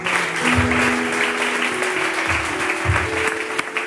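A church congregation applauds steadily and loudly, with sustained clapping filling the space. Low musical tones and a few voices sound underneath.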